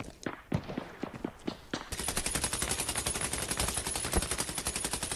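Rapid automatic gunfire in a Scarfall 2.0 battle-royale mobile shooter, sustained bursts over a few early single shots and footsteps, loud and close with no talk.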